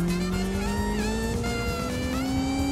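A Honda Civic mod in the BeamNG driving game accelerates with a steadily rising engine tone, its revs climbing smoothly over a rumbling, slightly tire-squealing bed, loud and continuous with no talk.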